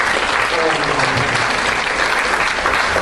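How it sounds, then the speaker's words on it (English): A church congregation claps loudly and continuously, a close, dense wash of hand claps filling the room with a faint murmur of voices beneath. "Give the Lord a clap."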